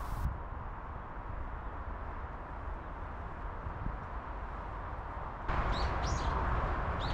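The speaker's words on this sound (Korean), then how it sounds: "가끔씩 들려오는 새소리는 산책의 정취를 더해줍니다" Birdsong in a dense forest along a trekking trail near Seoul, with faint chirps and calls over a steady background of wind and rustling leaves, the birds growing a little clearer toward the end.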